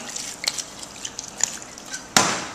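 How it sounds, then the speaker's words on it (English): White wine poured into a roasting pan holding a seared prime ten-bone pork loin, heard as light drips and trickles followed by a sudden louder splash near the end. "Now we're going to add some white wine."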